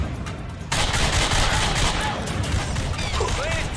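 Gunfire in The Darkness video game, a sudden dense burst of rapid shots and crashes kicking in after a quieter moment and continuing loud and close, with whistling game effects layered on top.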